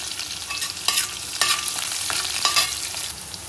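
Green chillies and fenugreek powder frying in a pan, with a spoon scraping and stirring in several distinct strokes over a steady close sizzle, no voices.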